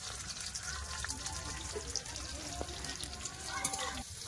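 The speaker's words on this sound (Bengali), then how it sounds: "তেল গরম হয়ে গেছে, পটল দিয়ে দিয়েছে, পটল ভেজে নিচ্ছে।" Pieces of pointed gourd (potol) sizzle in hot oil in a home kitchen, a steady crackling fry with occasional sharper pops, heard under nearby speech.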